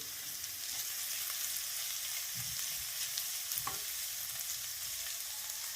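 Sliced onions sauté in a pan over a low flame for a fish curry, giving a soft, steady sizzle with faint crackles and an occasional stir, quiet and alone.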